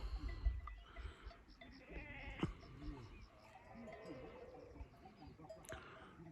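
A herd of wild goats, females with young kids, gathers at a salt lick on a rocky mountainside in the Nurhak Mountains and bleats intermittently at a distance over wind and faint background noise.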